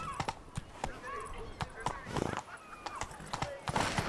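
A horse gallops in the video game The Witcher 3, giving a steady run of quick, close hoofbeats with a breathy snort or two, mixed with game ambience and a voice calling out now and then.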